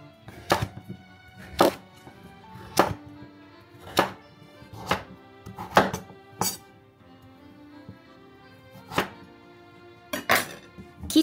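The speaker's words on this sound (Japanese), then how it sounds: "食べやすい大きさに切っていきます。" A knife cuts a kabocha pumpkin into pieces on a board, about ten sharp, close thunks at uneven intervals with quiet pauses between.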